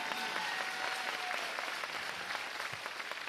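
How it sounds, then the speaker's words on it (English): A crowd at a campaign rally applauds continuously, steady clapping heard at a distance and fairly faint throughout. "you can clap for that"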